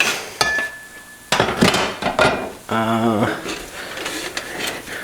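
A knife trims food on a board, making close clinks, taps and scraping strokes mixed with a short whirring rasp, all in irregular bursts.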